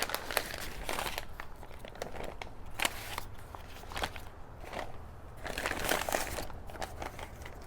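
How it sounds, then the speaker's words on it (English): A smoked brisket is unwrapped from its wrapping, with close, continuous crinkling and rustling in irregular bursts. "Let's go ahead and get this bad boy unwrapped and see what we got."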